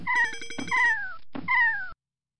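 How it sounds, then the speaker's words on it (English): A cat lets out loud, drawn-out yowling meows, two long wailing cries with a short gap between them, close and clear before sudden silence. "It sounds like he's beating a cat."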